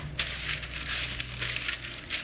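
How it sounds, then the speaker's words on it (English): Parchment paper is laid down on a baking sheet and crinkled, giving a series of soft crackling rustles close by, with a steady low hum from a dishwasher running in the background. "I'm going to put some parchment paper down."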